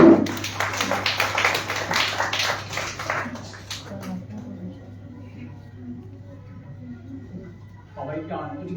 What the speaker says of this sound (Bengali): আপনারা সবাই ওনাদেরকে আরো উদ্বুদ্ধ করার জন্য একটু করতালি দিন